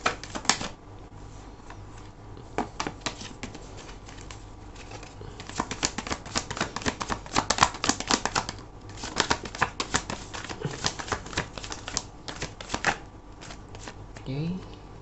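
Tarot cards are shuffled up close in repeated bursts of crisp riffling and flicking, irregular and busy through most of the stretch, with a person speaking quietly at times.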